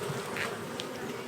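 Honey bees buzz at an opened hive during a queen check, a steady continuous hum with a few individual bees droning closer past the microphone.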